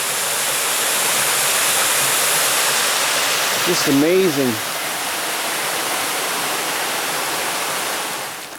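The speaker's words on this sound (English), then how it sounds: "If you can hear me over the water." Loud, steady rush of North Sylamore Creek in Arkansas fills the whole stretch, a broad constant roar with a brief spoken voice over it midway.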